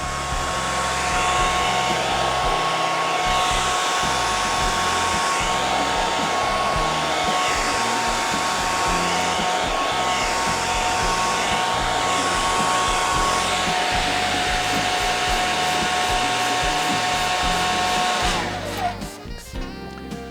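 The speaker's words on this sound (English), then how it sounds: "A little blow dryer." A hair dryer runs steadily at close range with a loud, constant whoosh and motor whine, then cuts off near the end.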